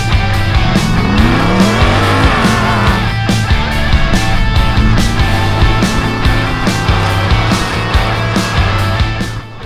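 A One Speed Racing Pro 2 race car driving hard at speed, a loud continuous engine roar with rising and falling revs and regular gear changes, near and dominant, with a brief tire squeal, no talk.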